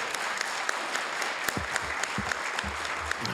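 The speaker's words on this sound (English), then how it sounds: "let's give everybody that are here a big round of applause" Applause from the audience at a volunteer awards evening in a city hall, a steady dense clatter of many hands held at an even level, with a few low thumps and faint murmurs near the end.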